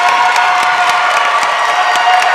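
High school basketball crowd at a regional championship game, on its feet cheering and applauding loudly and continuously, with dense clapping and shouting throughout.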